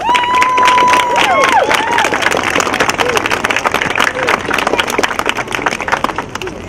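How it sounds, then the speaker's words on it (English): Audience applause and cheering at a holiday open house at Rockwood Mansion, following a musical performance; dense crowd clapping with voices, fairly loud throughout, and a few tonal notes at the start. "how about we give them a real round of applause?"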